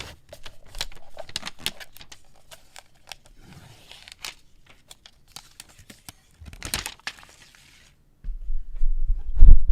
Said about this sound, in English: let's go ahead and peel that classic peel here